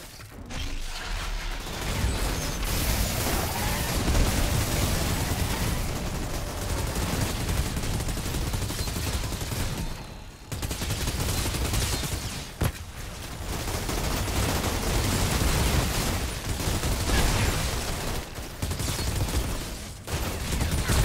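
Sustained automatic gunfire in the Outriders demo, a Trickster loot-farming run, rattling densely and steadily for most of the stretch, with a couple of brief pauses and mechanical clatter between bursts.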